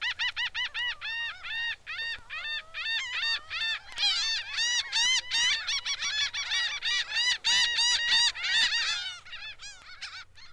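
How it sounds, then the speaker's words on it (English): Laughing gull calling along the shore, a long, loud run of nasal, laugh-like calls repeated in quick bursts, with no other sounds around them. "the laughing gull which scoots by the shore where she laughs her near-human laugh"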